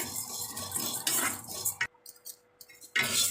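Lentils being dry-roasted in a pan for moringa leaf powder rasp and scrape as a spoon stirs them, with loud close scratching bursts broken by a short near-silent pause.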